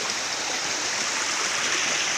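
Stream water flows steadily in a rural farm setting, a continuous close rushing wash with no pauses and no voices.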